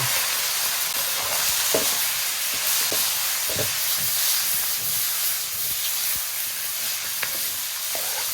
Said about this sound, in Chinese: 来一把花椒，来个豆瓣酱， 炒出红油，加入大肠